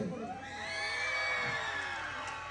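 A crowd at a live Malayalam folk song event whoops, shouts and cheers together, a loud sustained swell of many voices rising and holding for a couple of seconds; clapping is not clearly distinct.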